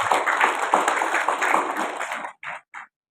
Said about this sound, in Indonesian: kita berikan aplaus kepada beliau